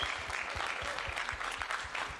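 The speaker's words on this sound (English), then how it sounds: "This guy deserves a round of applause" A crowd at a combat-sports weigh-in claps for a fighter's brother, a brief burst of scattered, moderately loud hand claps with faint talk underneath.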